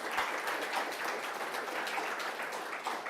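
A debate audience applauding steadily, dense continuous clapping from many hands with no pauses, fairly loud throughout.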